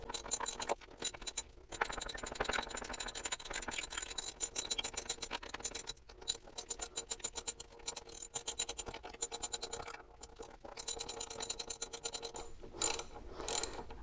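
A ratchet wrench clicks in quick, repeated bursts while tightening the 12 mm bolts on a reinstalled motorcycle wheel, with short pauses between strokes; close, fairly quiet and mechanical, with no talking.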